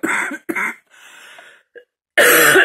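A person coughs in several short bursts near a workbench while handling powder for a resin test, with a louder, longer cough closing the sequence.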